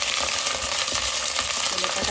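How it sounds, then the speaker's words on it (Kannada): Onions fry in hot oil with a dense, steady sizzle and crackle, loud and close throughout, with no voice over it. "ಫ್ರೈ ಆಗ್ತದೆ"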